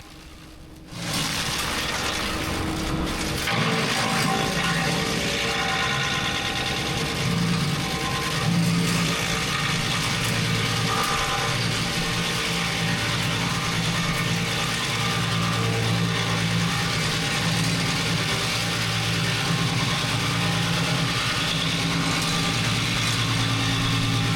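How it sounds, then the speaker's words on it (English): A stump grinder fitted with round green teeth chews steadily into a tree stump, its engine droning loud and continuous under a dense roar of grinding that runs unbroken from just after the start to the end. "This grinder has the round green teeth"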